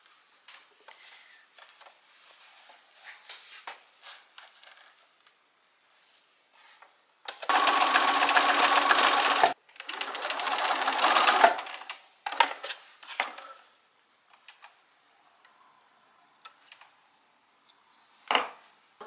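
Close sewing machine stitching a straight seam on a bohemian fabric book sleeve, with a few short bursts of whirring separated by quiet pauses and soft handling clatter.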